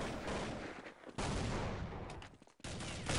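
Gunfire in a Counter-Strike match, dense bursts of rapid shots in two loud stretches with a brief lull between, sounding close and harsh and filling the mix.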